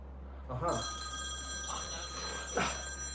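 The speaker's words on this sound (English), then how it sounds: "This stupid phone is calling and I can't see." A phone rings in repeated electronic trills over a steady background hum, fairly loud and close, with a voice underneath.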